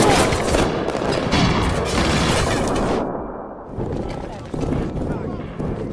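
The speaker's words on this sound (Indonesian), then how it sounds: "Dan adu tembak pun tidak bisa dihindarkan." Gunfire from a film shootout about a bank robber, loud bursts of shots and crashing impacts packed densely in the first half, then a rougher stretch of action noise with voices underneath.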